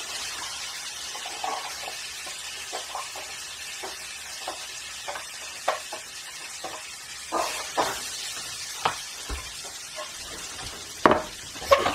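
Vegetables sizzle and fry in a pan, making a steady hiss over which a series of scattered clinks and stirring knocks sound, closer and louder toward the end, with no talk.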